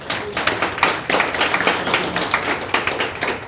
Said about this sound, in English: can I hear a clap?